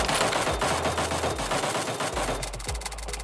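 Automatic gunfire in the PUBG Mobile video game, a rapid continuous burst of shots, loud and dense, running through the whole stretch with no voices over it.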